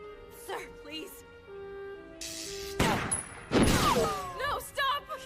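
Gunfire in an anime action scene, sharp bursts of shots cracking over a tense voice, with loud impacts and a brief ringing tone amid the shooting.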